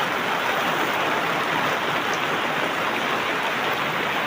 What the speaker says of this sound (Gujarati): વરસાદ ચાલુ છે, ચા પીવાનું જ છે ને।